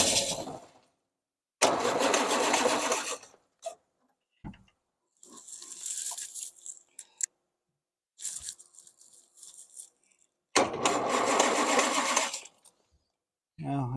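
An old Austin-Healey 3000 engine, likely not getting fuel, cranks in several long bursts, grinding and sputtering without catching, with quiet gaps and some talk between attempts.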